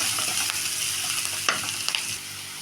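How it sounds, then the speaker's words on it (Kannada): Coarsely ground garlic masala paste frying in oil for a green gram palya, a close, constant sizzle broken by a few soft clicks and scrapes of stirring. "ಫುಲ್ ಮಸಾಲೆ ಹಾಕ್ಕೊಂಡು ಇವಾಗ ಸ್ವಲ್ಪ ಎಣ್ಣೆಗೆ ಫ್ರೈ ಮಾಡಬೇಕು"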